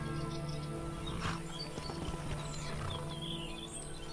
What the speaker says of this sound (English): Mekaru's dappled horse.